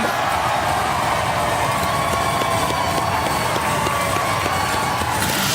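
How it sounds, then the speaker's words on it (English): A studio audience at a robot combat arena cheers and applauds for a competing robot, a loud, dense, continuous roar of claps and shouts that fills the whole stretch without a break. "can we have a round of applause for the Beast of Bodmin?"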